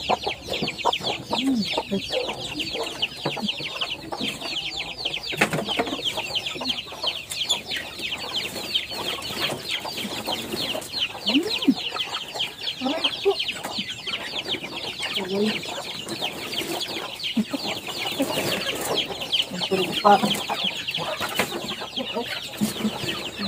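Chickens on a small mini farm cluck busily and continuously, a dense chorus of hens close by with occasional louder squawks, steady throughout.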